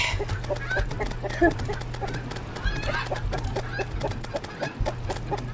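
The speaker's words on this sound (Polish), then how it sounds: "Też to gdakanie jest piękne" Chickens cluck steadily in the Terraria video game, repeated short clucks over a continuous low game hum, moderately loud throughout without clear speech.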